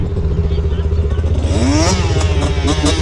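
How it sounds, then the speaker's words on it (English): An illegal dirt bike's engine runs loud and close, revving up steadily and climbing in pitch as the rider pulls a wheelie, with clattering and thumps mixed in. "Hey, watch this wheelie!"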